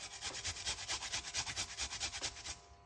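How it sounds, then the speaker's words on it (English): A piece of ginger is scraped against a grater in quick, even back-and-forth strokes, a rhythmic rasping of about a dozen close strokes that stops near the end, with no voices. "we're going to grate a nice little piece of a ginger right here"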